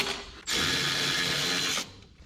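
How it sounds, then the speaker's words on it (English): A power ratchet backs out a clamp bolt on a 1999 Chevrolet S10 pickup during an LS engine swap, giving one steady, close mechanical whir of about a second and a half with quiet shop noise around it. "Go ahead and take that clamp off and lose that bolt forever."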